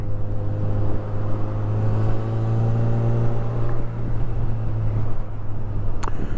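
A Honda CB1000R Black Edition motorcycle rides through traffic at a steady speed, its engine a loud, continuous droning hum with a low rumble and no talk.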